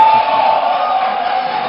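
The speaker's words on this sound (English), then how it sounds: "please stop the jeering and the clapping" At a 2020 Edo State election debate, the audience jeers and claps, making a loud, continuous crowd roar of shouting mixed with applause, steady from start to finish.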